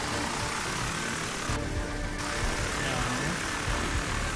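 Drone flying in the war video game Frontlines: Fuel of War, a steady broadband engine drone running throughout the whole stretch, with faint game noise underneath.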